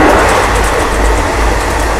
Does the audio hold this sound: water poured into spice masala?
no